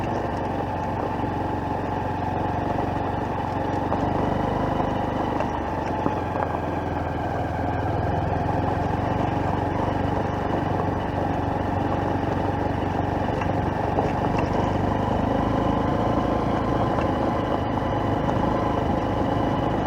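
A 2023 Honda CB125F motorcycle rolls slowly along a rough bush track, its small engine giving a steady, moderately loud drone that holds an even pitch throughout with little throttle change.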